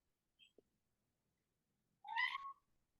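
A cat lets out a single clear meow partway through, near and moderately loud, preceded by a couple of faint small clicks in otherwise quiet surroundings.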